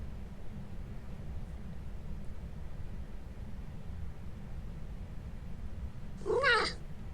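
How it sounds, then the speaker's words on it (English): A single short cat meow sounds from inside a hamper in a video game, brief and moderately close over a steady low background hum. "There's a cat in the hamper."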